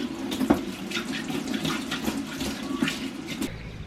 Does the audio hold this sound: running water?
yes